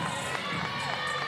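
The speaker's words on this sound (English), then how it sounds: "Loud pop from the crowd" A volleyball crowd roars at a college match between Cal and Syracuse, a loud, continuous burst of cheering and shouting filling the whole moment.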